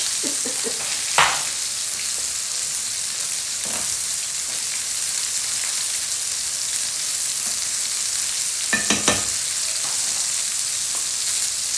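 Steady, loud sizzling of steak searing in a hot pan fills the background, with a few sharp clinks and scrapes of utensils now and then.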